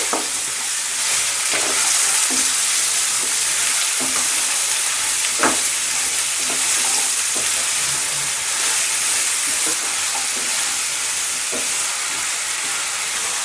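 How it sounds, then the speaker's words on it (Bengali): Washed bottle gourd pieces sizzle loudly and steadily in a hot pan, with scattered scraping clicks from stirring over a continuous close frying hiss. "এরপর আমি ধুয়ে রাখা লাউ লাউগুলো দিয়ে দিচ্ছি নাড়িয়ে নিচ্ছি"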